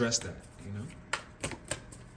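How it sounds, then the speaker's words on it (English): Tarot cards being shuffled by hand, a few quick riffles and soft slaps heard up close, with a voice talking at the start. "let me go ahead and give a little on-screen shuffle"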